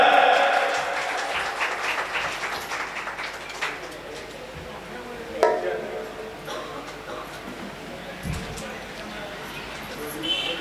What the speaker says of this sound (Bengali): জোরে হাততালি হয়ে যাক একটা